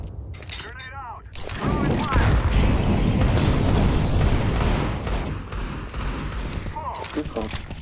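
A grenade blows up in a video game with a heavy, crackling boom that swells and roars for several seconds before tapering off, with brief talk before and after.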